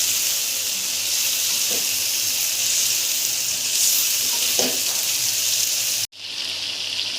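Chicken and masala for chicken jalfrezi frying in a pan give a loud, steady, close sizzle with a couple of soft stirring scrapes, cutting off abruptly near the end before the hiss returns.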